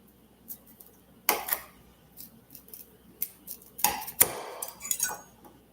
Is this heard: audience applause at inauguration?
no